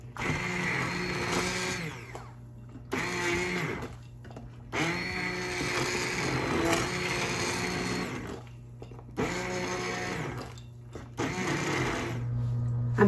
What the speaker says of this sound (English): I'm now going to blend the soup.